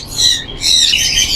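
Yellow ring-neck parrots and other fancy birds in a bird shop, giving loud, shrill, close calls that run almost continuously with a short break midway.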